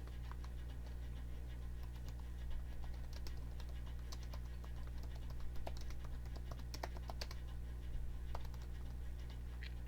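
Steady keyboard typing in the horror game Perceptions of the Dead, a continuous run of light clicking keystrokes, close and fairly quiet over a low steady hum.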